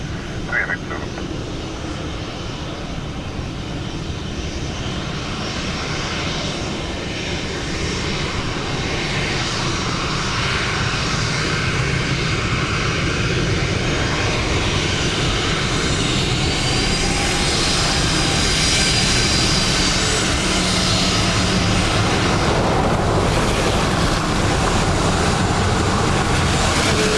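A plane lands at Dublin Airport in wet weather, its engine roar steady and fairly distant throughout, with air traffic radio chatter playing over it.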